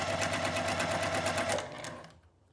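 A sewing machine stitches quilt squares together with a quarter-inch seam, a fast, even mechanical rattle running steadily before slowing and stopping near the end, close and fairly quiet.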